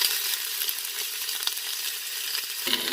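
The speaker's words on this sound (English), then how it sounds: "I'm going to let it sear like that for a little bit before I flip it over." Chicken thighs and legs searing in a pan, a steady, close, dense sizzle and crackle that carries on without a break and with no talking.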